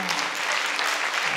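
A brief burst of audience applause at a hypnosis show, dense clapping at even strength throughout.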